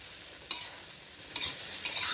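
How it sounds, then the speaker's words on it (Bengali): A spoon stirs salt into bread poha in a pan, giving three quick scraping strokes over a soft, steady sizzle, close and clear with no talking. "এটা পাউরুটির জন্য নুনটা এইভাবে নাড়াচাড়া করে নেব"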